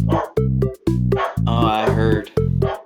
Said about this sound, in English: My dog is freaking vicious out there.